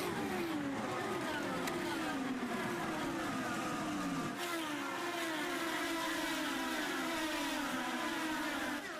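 IndyCar race cars accelerating together at a side-by-side restart of the 2011 Indy 225, a fairly faint blend of rising engine whines that repeatedly climb in pitch as the field pulls away.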